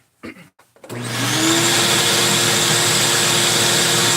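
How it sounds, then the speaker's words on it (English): A power grinder spins up after a few brief knocks and handling sounds, then runs loud and steady up close while grinding metal, with a continuous high whine and no voices. "It marked over to the side here a bit, so I gotta grind this over just a little bit more."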